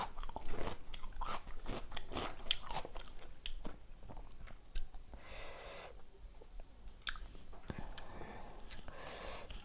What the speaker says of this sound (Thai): น้ำชอบกินแตงเพราะว่า มันหวานแล้วก็มันก็กรอบมาก